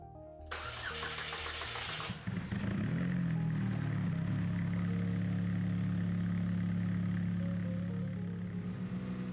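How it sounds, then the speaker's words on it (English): A DF Goblin car engine starts for the first time after a build, cranking briefly, catching, and settling into a steady, loud idle that hums on without any talking. "start the engine"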